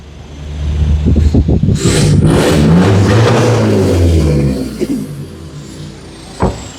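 A remapped pickup truck with a racing exhaust revs loudly and close, the throttle only lightly pressed; a rising, throaty roar holds for several seconds, then falls away, ending with a brief sharp pop.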